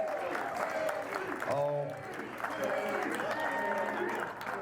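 A church congregation applauds and cheers, the clapping steady and moderately loud while a voice speaks over it.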